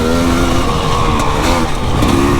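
KTM enduro motorcycle revving hard while ridden through rain at an enduro event, loud and close, with a strained, wavering engine note throughout.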